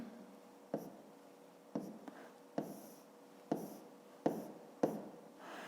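Quiet scratchy strokes of a pen or chalk on a surface, in short bursts separated by brief pauses, close and faint.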